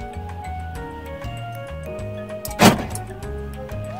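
A Chevrolet Spark car closing on a Google voice-command remote gives a whirring mechanical hum, then one loud, abrupt clunk near the end, heard close and with no talking.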